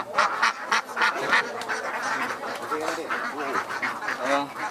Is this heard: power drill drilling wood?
no